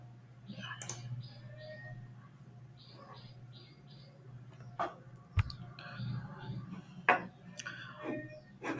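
Computer keyboard typing in short bursts of light clicks, quiet and close, with a few sharper mouse-like clicks and a low steady hum underneath.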